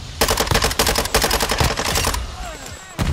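A submachine gun in Modern Warfare II team deathmatch fires a rapid, loud, continuous burst for about two seconds, then stops, followed by quieter game noise.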